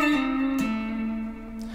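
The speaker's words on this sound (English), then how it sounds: "it's gonna be a bend and release pull-off" A single electric guitar note is bent up and released back down, then pulled off to a lower note that rings on steadily, with a slightly effected, reverberant tone and no talking.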